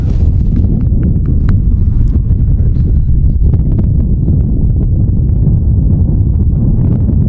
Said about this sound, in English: It's a shitty windy day today.